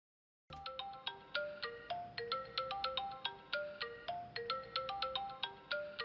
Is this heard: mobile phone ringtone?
yes